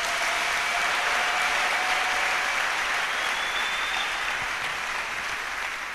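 A church congregation applauding during a sermon, a full, sustained wash of clapping from many hands that holds steady for several seconds and eases slightly toward the end.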